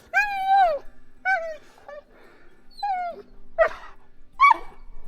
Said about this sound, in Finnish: Nyt antaa koiran rauhoittua.